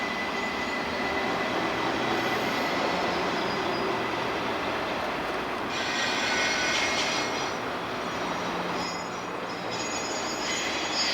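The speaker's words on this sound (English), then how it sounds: "20X rounds the curve onto the Rockville Bridge, with a trio of black and white ponies leading the train." A Norfolk Southern freight train led by three black-and-white locomotives rolls across the Rockville Bridge on the Pittsburgh Line, a sustained heavy rumble with wheel and engine drone and brief higher squeals, steady and fairly distant.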